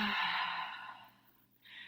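A deep breath taken during a morning yoga session, a long airy exhale sighing out over about a second, then fading before a softer breath begins again, close and alone with no talking.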